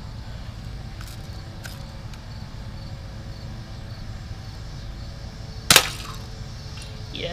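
A single sharp BB gun shot cracks out loud near the end, over a steady outdoor rumble with a few faint clicks earlier.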